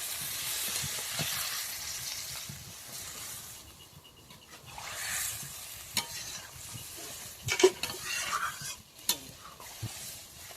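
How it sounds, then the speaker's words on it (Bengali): Boiled potato and papaya are stirred with their cooking water in a pan for Bengali sukto, a soft sloshing and scraping with a faint sizzle, close and fairly quiet, with a few sharper utensil knocks near the end. "এই সেদ্ধ করা জলের সহ ওটাই ঢেলে দিলাম, দিয়ে আবার একটু নাড়াচাড়া করবো।"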